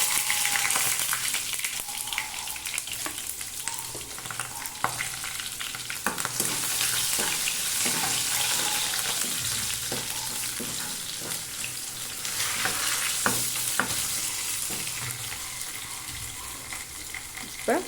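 Crushed garlic and green chilies sizzle steadily in hot oil in a pan, a dense continuous frying hiss with occasional stirring clinks and scrapes throughout.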